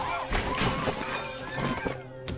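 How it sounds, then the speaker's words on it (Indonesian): Glass window shattering in the horror film The Mist, a dense, sustained crash of breaking glass with scattered sharp fragments, loud and busy throughout under faint background sound. "Lalu kaca pun kemudian pecah."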